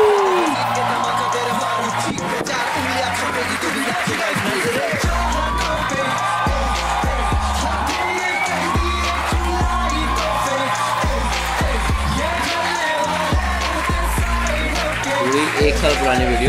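An audience at a stand-up comedy show cheers, whoops and applauds as comedian Munawar Faruqui walks on stage. The sound is a loud, sustained roar of clapping and shouting from a large crowd that carries through the whole stretch.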